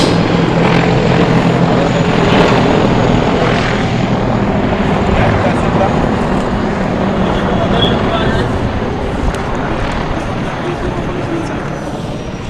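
Transport and attack helicopters fly overhead in formation at an Independence Day celebration parade, a loud, steady rotor and engine roar that fills the whole stretch and slowly eases off.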